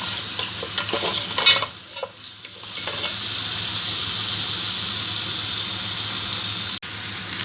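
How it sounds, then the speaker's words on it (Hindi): Mutton trotters and spices sautéing in an Instant Pot give a steady, bright sizzle, with scraping stirs and clatter near the start, then a continuous close frying hiss to the end. "पाए और मसाले को आपने कम से कम 1 से 2 मिनट अच्छे से भूनना है।"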